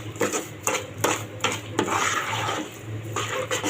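A spoon stirs sugar in a pan over a low gas flame while raw mango candy is being made, giving close, irregular scraping and clinking strokes with a steady low hum underneath.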